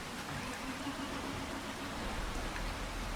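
Steady rain falling on a farm field in Farming Simulator 25, a soft even hiss that holds without a break and with no voices.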